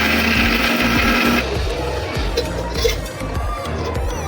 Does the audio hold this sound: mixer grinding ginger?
yes